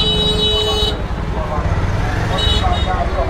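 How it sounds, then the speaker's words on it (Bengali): Car and vehicle horns blare repeatedly in dense road traffic, close and loud over engine rumble, with one long tonal honk at the start and more beeps later. "কিন্তু এরা তো কন্টিনিউ হর্ন দিচ্ছে"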